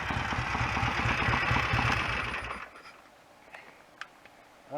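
BSA A7 motorcycle engine running after a hot start, a loud steady pulsing thrum for a couple of seconds that then cuts out, leaving quiet background with a few faint clicks.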